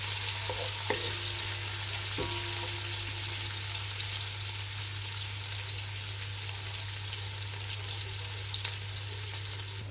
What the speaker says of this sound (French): Je vais laisser frire un tout petit peu. Bien les remuer, bien les retourner.